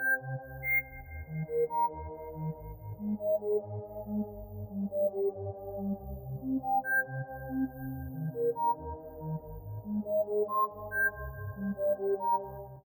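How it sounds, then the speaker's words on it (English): Hydra Arp synth patch from the Flare XP pack plays soft, rippling arpeggiated chords, a steady stream of gentle bell-like notes with sustained tones gliding above, used as a background pad. "The next sound I use is from the Flare XP based gutter pack, and it's the Hydra Arp."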